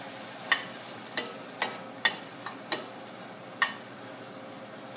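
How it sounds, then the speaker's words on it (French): Celery sautés in brown butter with a soft, steady sizzle, punctuated by a series of sharp spatula taps against the pan at irregular intervals, close and fairly quiet. "Il faut les faire revenir dans le beurre noisette."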